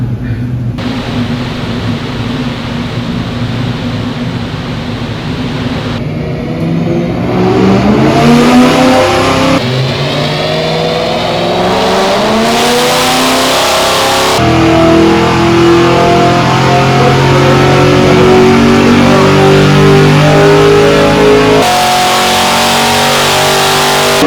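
A BMW E90 M3 engine runs up through the rev range on a dyno, a loud, sustained roar that climbs in pitch over a long pull, with brief shifts and gear changes heard close by.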